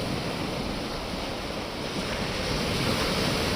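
Sea waves at Dhanushkodi beach near Rameswaram roll in continuously, a broad steady wash of surf with wind buffeting the microphone, loud and unbroken with no voices.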